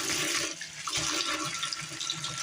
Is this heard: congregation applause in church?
no